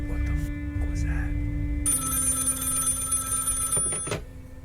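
Old landline telephone bell ringing indoors, a steady sustained electronic ring that changes tone partway through, loud and close, with voices and background noise underneath.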